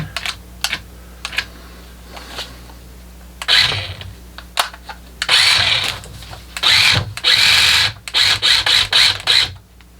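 Remote control four wheel drive drift car with its wheels spinning, short whirring motor bursts that grow longer and louder in repeated pulses after a few light clicks and taps, heard close up.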